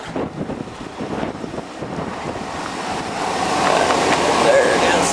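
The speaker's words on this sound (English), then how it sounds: "Whew. It's windy out." Strong outdoor wind gusting around a Chevrolet Silverado pickup with a 350 Vortec fuel-injected engine, a steady roaring rush that swells louder toward the end, loud and close to the microphone.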